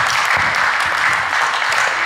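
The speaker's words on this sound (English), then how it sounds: "Just have a round of applause for all the candidates, please" A short burst of steady applause from the audience at the 2018 Grand Ronde candidates forum, dense clapping at an even level for about two seconds with no voices over it.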